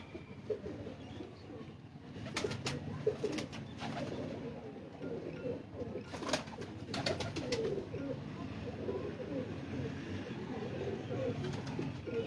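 Domestic fancy pigeons coo in soft, rolling low calls, repeated in overlapping bouts close by, while a few sharp clicks and wing flutters break through now and then; someone talks faintly in the background.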